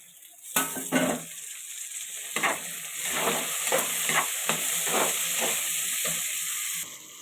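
Onion and tomato sizzle and fry in a hot pan for a meat curry, with repeated scraping stirs every half second or so over a steady close hiss.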